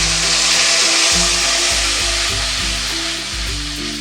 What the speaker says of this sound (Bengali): যে খুব ভালো করে মশলাটা আমি কষিয়ে নেব